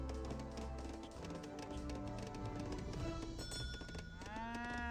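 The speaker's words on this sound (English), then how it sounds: "Red's tasking his cows to this town's center" Cattle low repeatedly in a strategy video game as a herd is driven toward a town centre. The moos sit in a dense mix of game music and unit noises, with a swooping tonal effect near the end.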